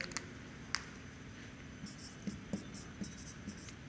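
Chalk or marker writing on a board during a physics lecture on Coulomb's law, heard as faint scattered taps and short scratchy strokes over a quiet room.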